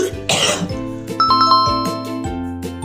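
One short, sharp cough bursts out near the start of a health-center cough etiquette lesson, followed by bright chiming music tones and no speech.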